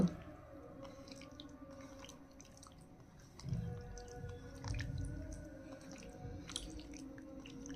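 Raw chicken is mixed by hand with salt and ginger-garlic paste, producing soft, close wet squishing and squelching sounds that grow more active partway through, over a low background hum.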